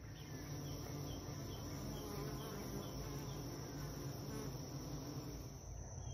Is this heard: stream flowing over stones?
no